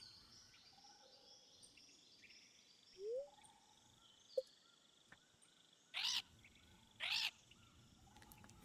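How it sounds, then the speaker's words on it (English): A character squawks twice in Stardew Valley with the Voice Over Framework mod, two short bright bursts in quick succession over a faint, chirpy ambient game soundscape with scattered soft calls. "He squawked at us."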